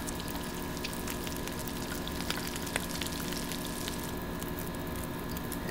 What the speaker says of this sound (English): Go ahead and cook this venison we just harvested.